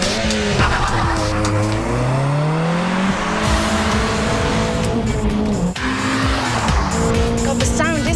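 A car fitted with a Miltech aftermarket exhaust is driven hard on a test track, its loud engine note climbing and falling through gears while tires squeal through corners.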